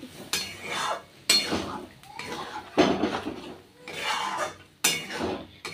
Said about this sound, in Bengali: এবার আমি এটা ডালটাকে নাড়িয়ে ছাড়িয়ে নিচ্ছি।